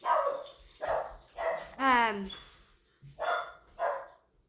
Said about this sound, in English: I'm sorry, I had to figure out why my dog was barking.